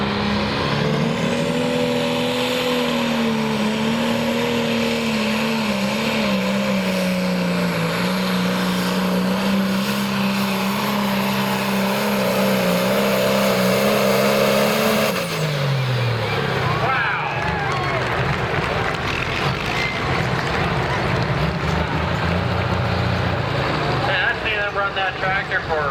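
A John Deere tractor roars through a pull run, its engine holding a loud, sustained high drone for about fifteen seconds before dropping off, leaving crowd noise and a commentator talking over it.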